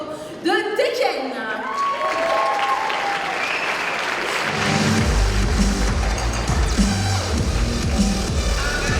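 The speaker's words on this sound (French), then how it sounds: "on applaudit bien fort Eddie Gordo de Tekken." Loud, sustained audience applause and cheering fill a hall at a Polymanga 2016 cosplay contest, with a heavy bass-driven music track kicking in partway through under the clapping.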